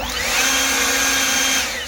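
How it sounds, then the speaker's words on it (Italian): An Ego Power lithium battery leaf blower pushing fallen leaves runs with a loud, steady high-pitched whine and rushing air, close and continuous with no talking. "soffiatore con batteria al litio. Questa è della Ego Power e mi trovo benissimo"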